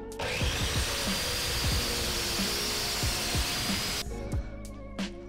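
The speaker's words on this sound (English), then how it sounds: "I'll take off that little chunk with the miter saw again." Miter saw cutting a small chunk off a wooden tobacco pipe blank, a loud sustained high-pitched whine for about four seconds that then cuts off and winds down, with a few faint knocks.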